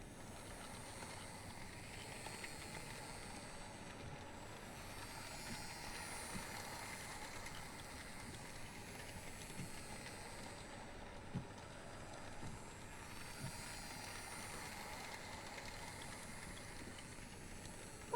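A model train runs in Life is Strange 2, giving off a steady, soft hiss and rolling rumble that swells and eases a little as it circles, with no voices over it.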